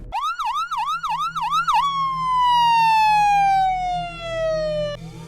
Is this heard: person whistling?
no